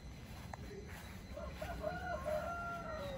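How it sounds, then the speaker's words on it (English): A rooster crows once, faint and some distance off, on a quiet rural property in Cañaboncito, Caguas, Puerto Rico, with a steady background hum. "There's your rooster."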